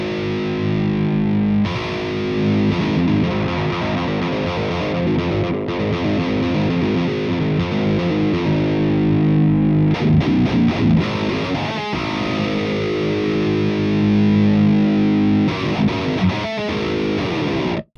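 Heavily distorted electric guitar runs through the STL ToneHub amp-simulation plugin, playing sustained chugging riffs with dense saturated tone, loud and continuous for the whole stretch with brief gaps between phrases and no talking.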